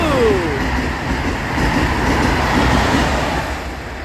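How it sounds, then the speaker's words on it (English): A train passes close by on railway tracks beside a small bridge, a sustained rumbling roar with rolling wheel noise and a faint falling squeal at the start, fading slightly toward the end. "First train of the day."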